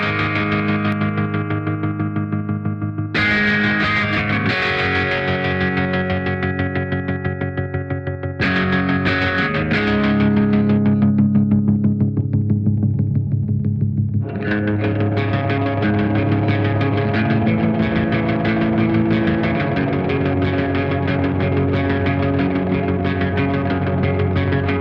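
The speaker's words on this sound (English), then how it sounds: "Now we're onto slicer. This is wicked because it's like a square wave that cuts the signal" Guitar run through a BOSS MD-500 modulation pedal on its slicer effect, a square-wave chop cutting the sustained chords into rapid rhythmic pulses, with chord changes every few seconds and no talking.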